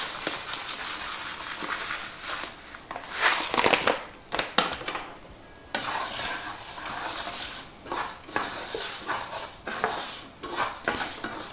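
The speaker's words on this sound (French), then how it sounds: "Je vais bien mélanger." Rice paella being stirred in a pan with oil, a close, busy scraping and rustling of a utensil through the grains against the pan, coming in uneven bursts with a light sizzle underneath and no talk.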